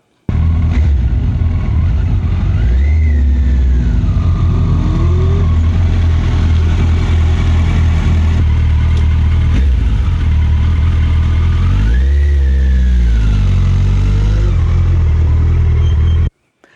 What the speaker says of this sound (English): Then as I release the clutch and I can feel the motorcycle wanting to roll forward, I slowly release the rear brake as I roll on the throttle.